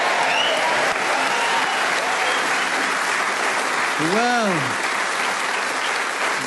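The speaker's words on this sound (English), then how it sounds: "deserved that huge round of applause" Studio audience on a panel game show giving a big, sustained round of applause that fills the room, with a brief spoken word over it.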